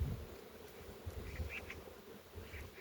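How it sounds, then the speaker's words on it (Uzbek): Honey bees working at a hive, a low, uneven buzzing drone close by with a few louder passes of individual bees, no speech. "Shundan arlar ishlayapti."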